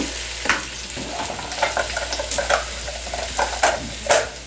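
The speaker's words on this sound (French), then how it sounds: "c'est vraiment l'os du bœuf qui fait brou, brou, brou" Beef bones bump and knock in a cooking pot over a steady bubbling and sizzling simmer, with soft, irregular clattering pops close by and nobody speaking.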